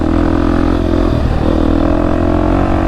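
Big dirt bike engine on a trail, a loud close steady drone with a brief dip in revs midway before it picks back up.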